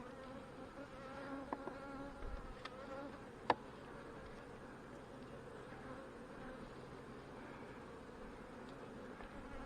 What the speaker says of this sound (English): I just cracked this one open and notice that there's a lot of bees in the top of this one.